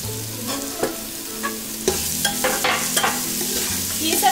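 Mixed vegetables with spinach and eggplant fry over a lowered gas flame, a steady sizzle broken by repeated scraping and stirring strokes of a spatula in the pan, close and continuous with no voices.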